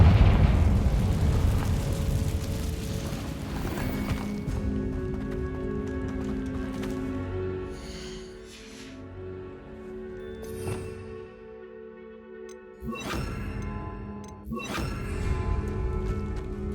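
A fire spell cast in Hogwarts Legacy on Xbox Series X|S, bursting into a loud blast followed by rumbling debris in a cave setting, with further sharp impacts later over a low game ambience.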